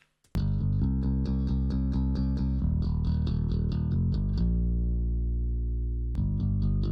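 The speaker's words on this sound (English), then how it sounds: "And then I put some chorus effect" A synthesized song mix plays with a chorus effect thickening three parts: sustained chords under a bright, repeating plucked pattern that thins out and then returns near the end.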